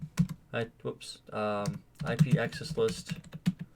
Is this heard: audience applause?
no